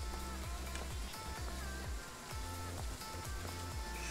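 Steady rain falls outside in the Train Sim World Ruhr-Sieg Nord route during a storm, a dense, even hiss of drops overlaid with soft rhythmic low thumps, fairly quiet and with no talking.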